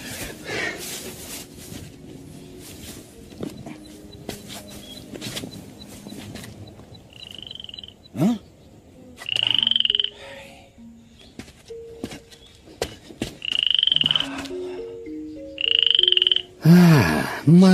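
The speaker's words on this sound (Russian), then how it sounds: "Лягушка." A frog croaks close by in repeated loud bursts, with several strong calls spaced across the later half, mixed with clicks and scattered bird-like chirps.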